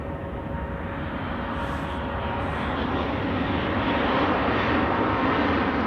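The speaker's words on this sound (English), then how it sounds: "So, Speedbird is taking off, so we quickly go over to runway 28 to observe that." British Airways airliner taking off at Zurich Airport on a winter day, a continuous loud engine roar with a broad rushing hiss that swells slightly as the jet accelerates down the runway, heard from a distance.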